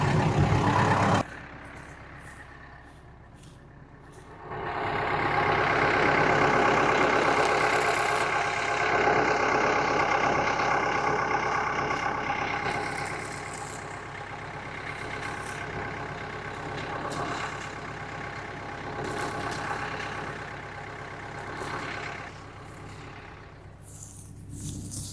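A farm tractor engine idles close by, a steady low rumble with a droning hum that holds for about twenty seconds after a brief quieter start, easing slightly toward the end.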